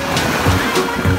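Water is churned into waves during children's toy water play, with a continuous sloshing, splashing wash and a few heavier surges, close and loud, while a voice talks over it.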